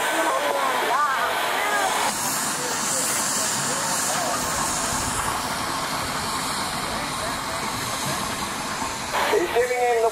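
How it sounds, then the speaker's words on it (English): A steam traction engine runs close by in neutral with a loud, continuous hiss and rumbling chug that holds steady throughout, with voices faintly mixed in. "The steam engine down on the west end,"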